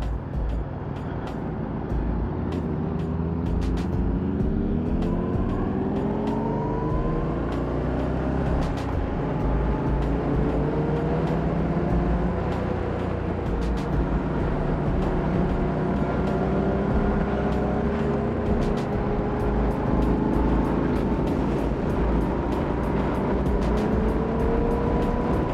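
A group of motorcycles rides on the freeway, engines droning steadily with rising and falling revs and wind rush, one bike loud and close while others blend into a continuous roar.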